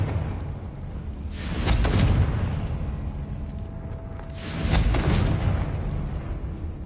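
Two loud blasts of the Confringo fire spell in the Hogwarts Legacy video game, each a broad roaring burst lasting under a second, spaced about three seconds apart over a low background rumble, with no talking.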